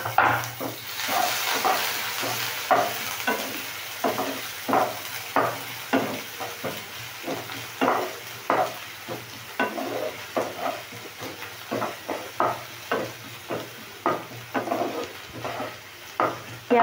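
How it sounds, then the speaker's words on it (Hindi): Onion, garlic and green chili fry in a pan for a peas paratha filling, with a spoon scraping and stirring in steady repeated strokes over a constant close sizzle. No one speaks. "प्याज को गोल्डन ब्राउन करेंगे"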